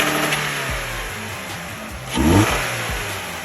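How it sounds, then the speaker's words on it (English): Toyota Camry 2.5L engine fitted with a Weapon-R performance intake, revved from idle with a sharp rise in pitch and a louder swell around the middle, then easing back to a steady idle, close and loud. "we can go ahead and give it a little bit of gas"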